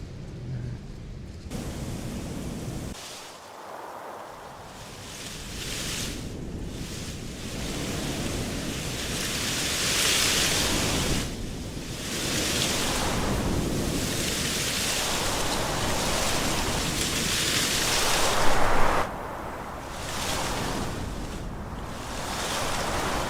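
A synthesizer produces a wind sound effect, a broad, continuous rushing whoosh that swells and eases in slow waves, loud and alone.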